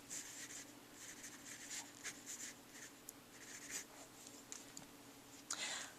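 A pen writes a name in cursive across the top line on the back of a check, giving a soft, close scratching with brief pauses between strokes, quiet and continuous for several seconds.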